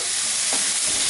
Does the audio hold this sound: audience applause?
no